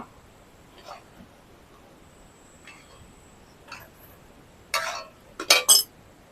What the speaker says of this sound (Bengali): এবার আমি কড়াইটা নামিয়ে নিব